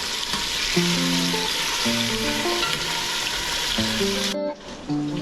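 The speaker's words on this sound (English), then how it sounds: "So while we are frying the potatoes" Steady crackling sizzle of potatoes frying in hot oil, loud and close, with occasional stirring scrapes and no talking.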